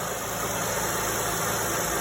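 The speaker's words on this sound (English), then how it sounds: "the engine's purring like a kitten" A car engine idles smoothly at an auto repair shop at a steady low rumble, constant and close, with no voices over it.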